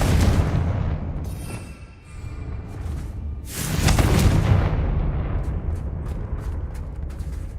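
Confringo fire spell in the video game Hogwarts Legacy, heavy booming blasts with a rumbling burst near the start and a bigger roaring explosion midway that fades into crackling debris.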